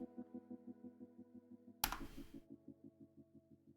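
Someone types on a computer keyboard, a soft, even run of key clicks over a low steady hum, briefly broken by one louder clatter before the tapping resumes.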